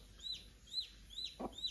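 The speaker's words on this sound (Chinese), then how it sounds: "这只母鸡老是和我玩躲猫猫" A brooding hen in a farmyard coop gives a few soft, quick clucks in a short run, close but quiet, with a brief low thump partway through.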